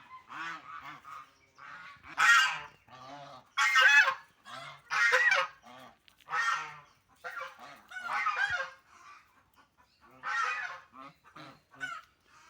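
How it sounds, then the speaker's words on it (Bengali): Loud, repeated nasal honking calls from ducks come in bursts with short pauses between them, nearby and close together. "হাঁসগুলো এখন ভেতরে ঢুকবে"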